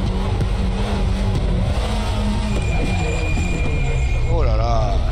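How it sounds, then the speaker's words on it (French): Volvo S60 Polestar WTCC 2016 touring car spinning its wheels in first gear in RaceRoom Racing Experience, a steady loud engine drone with rising revs and tire noise throughout, with talk over it. "Patine un peu en première."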